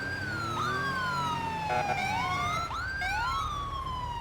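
A police siren in Grand Theft Auto V with a traffic police motorcycle mod on a BMW K1600, wailing and yelping loudly and close, its pitch sweeping up and down over a steady engine hum.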